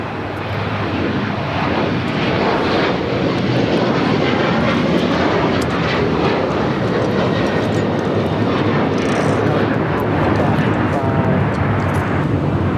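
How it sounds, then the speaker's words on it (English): An Alaska Airlines Boeing 737-900ER jet takes off at LAX on the south side, its engines producing a loud, sustained roar that fills the whole stretch. Voices talk faintly under the noise. "Next takeoff here on the south side. Alaska Airlines Flight 1412 heading to Liberia, 737-900 ER."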